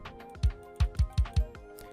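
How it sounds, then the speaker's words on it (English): An Afrobeats kick drum thumps five times in a quick, bouncy pattern, punchy and low, with light percussive ticks around the hits and no voices. "and then we have the kick."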